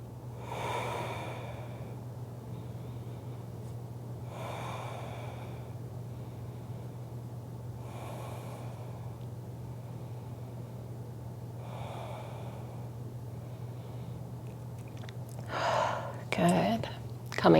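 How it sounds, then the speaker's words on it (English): Slow, deep breaths during a yoga wide-leg forward fold, with four long airy exhales spaced about four seconds apart over a steady low hum, followed by a few louder rustles at the end. "We'll take 5 rounds of breath here."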